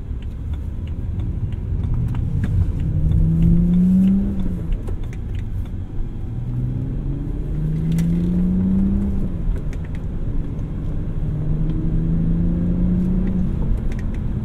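Cabin of a 2008 BMW 328i E90 on the road, a low steady engine rumble with gear-by-gear rising revs sweeping up and dropping several times, plus faint interior rattles, quiet and smooth with no speech.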